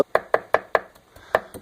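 Several crisp knife chops cut bell pepper on a cutting board in a quick, slightly uneven rhythm, close up with no voices.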